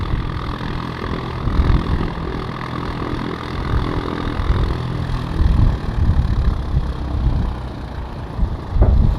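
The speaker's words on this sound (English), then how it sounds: "That engine start you just heard was G-Boyle." Aircraft registered G-Boyle starting its engine at Manchester City Airport, a steady, rumbling engine drone holding at a fairly even level from start to finish, close by, with no voices.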